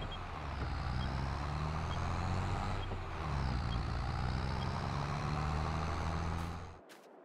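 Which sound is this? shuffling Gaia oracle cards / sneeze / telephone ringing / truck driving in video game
truck driving in video game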